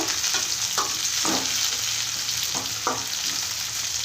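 Curry leaves and chopped tomato frying in a pan for semiya upma, with a steady close sizzle and several scraping stirs of a spoon against the pan spread across the clip.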